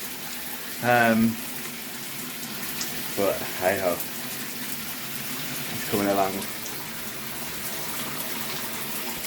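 Shower water pours steadily into a homebrew fermenter being filled to about 23 litres for a session IPA, a continuous hiss and splash heard throughout with a man's brief remarks spoken over it.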